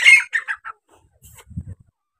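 A partridge gives a short series of sharp, high calls close by, followed by a pause and a few low murmuring sounds.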